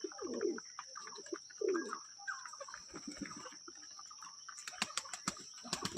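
Lotan pigeons coo in soft, low, repeated bursts close by, with lighter chirps and a sharper flutter of clicks near the end.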